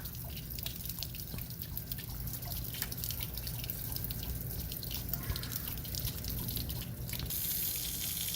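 Water gurgles and trickles steadily while an RV water heater is flushed of sediment. A constant, close, splashy flow with dripping spatters runs throughout at a fairly even level, and no one speaks.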